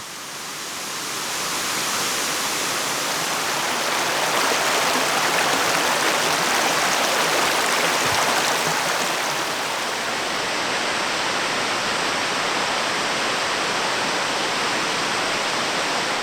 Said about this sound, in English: Here's looking down onto the waterfall from above. It's a really beautiful creek.